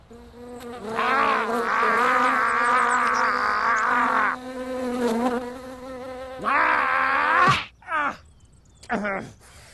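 A person's voice imitates a buzzing housefly in a TV comedy show, a long wavering nasal drone held for several seconds, then a second burst followed by short choppy bursts, loud and close.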